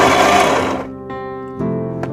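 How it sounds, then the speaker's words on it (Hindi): A mixer grinder blends a hot spice puree with a loud, close motor whir that cuts off, followed by two short buzzing pulses. "बहुत ही केयर के साथ मिक्सी चलानी होगी"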